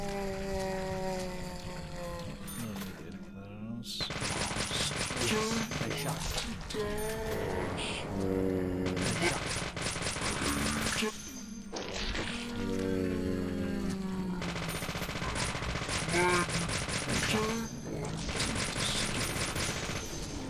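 Upgraded gun in Deadly Premonition firing in long rapid bursts separated by short pauses, loud and close, over a backdrop of game music and a voice talking.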